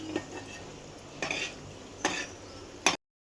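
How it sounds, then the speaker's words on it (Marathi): Nuggets frying in a pan of oil give off a soft, steady sizzle, broken by several scraping stirs and utensil clatters against the pan, close by and with no talk. "इथं आम्ही नगेट्स पण तळायला घेतले"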